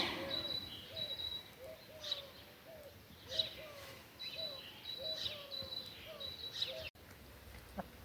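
Birds sing repeatedly outdoors: a regular series of clear whistled notes, joined by higher chirps, recurring every second or so at moderate distance.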